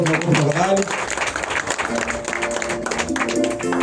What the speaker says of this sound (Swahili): Watu makofi tafadhali